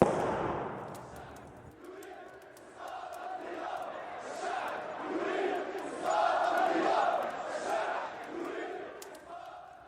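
A large crowd in a city square shouts and chants against Ceaușescu during his speech, a loud, surging roar that swells and fades, with sharp crackling bursts like firecrackers scattered through it.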